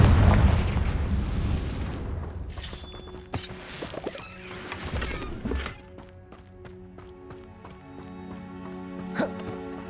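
Confringo blasting spells in Hogwarts Legacy go off as a loud deep explosion, then sharper bursts and pops, each followed by ringing magical tones that decay into a fading shimmer.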